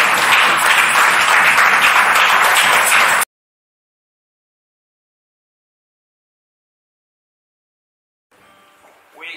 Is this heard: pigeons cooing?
no